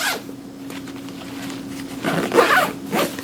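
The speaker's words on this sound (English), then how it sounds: "And once again, another zippered pocket here." A zipper on a pocket of a Vertx EDC Gamut backpack is pulled open, giving a steady close-up rasp that ends in a louder, quicker burst near the end.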